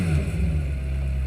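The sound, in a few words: supercar engine revving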